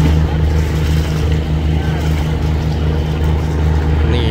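A boat engine towing a sand barge downstream drones steadily and loudly throughout without revving, with a low, throbbing hum and broadband wash, no pauses or speech.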